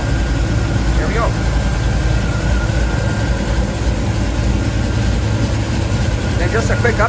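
1977 Chevy Camaro engine idling steadily during coolant burping, a constant low rumble close by with faint brief chirps on top.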